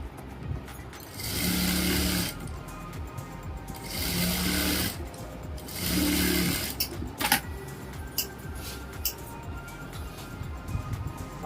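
A sewing machine stitches a Patiala salwar in three steady bursts of whirring, each about two seconds long with short pauses between, followed by a few faint clicks and handling noises.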